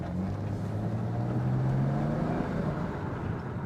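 A 220k-mile BMW 335i engine builds turbo boost while driving, a steady droning engine note rising in pitch under road noise, with no talking.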